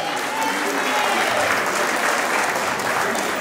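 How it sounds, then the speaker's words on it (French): Guests at a wedding applaud the bride in a steady, moderately loud burst of clapping that continues evenly across the moment. "applaudissez pour elle"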